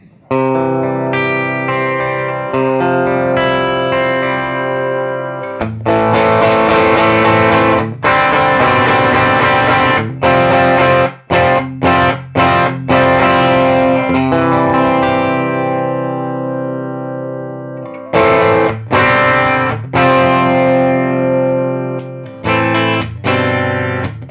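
Electric guitar played through a Klon Centaur overdrive pedal on a Temple Audio Trio 28 pedalboard, a loud, sustained driven tone with strummed chords and short pauses, played alone without talk.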